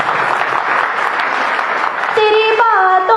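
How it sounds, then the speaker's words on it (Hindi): Audience applause at a live Hindi ghazal performance, steady clapping that fills the hall, then a sustained sung or instrumental melody enters near the end over the fading applause. "आप थोड़ी बहुत तालियां बजा सकते हैं, मुझे बुरा नहीं मानूंगी।"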